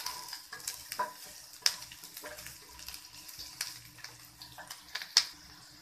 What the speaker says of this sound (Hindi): प्याज हमारी हल्का भून चुकी है। अब इसमें हम ये पत्ता डाल देंगे।